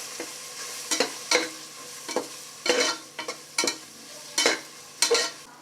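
A thick mix of chicken masala and garam masala is stirred in a pot for egg biryani made in a pressure cooker, with about a dozen distinct scraping spoon strokes in an uneven rhythm and a faint sizzle between them, close with no voices.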